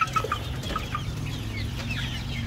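Several chickens cluck softly nearby, a scattered chorus of short calls over a low steady background hum.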